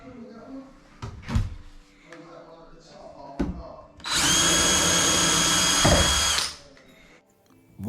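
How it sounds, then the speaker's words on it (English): A drill with a small bit marks the spindle hole in a door, with one loud steady whine lasting about two seconds. Knocks and handling thuds come before it, and a voice is heard briefly. "You can make a mark with a small drill bit."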